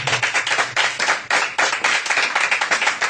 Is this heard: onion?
no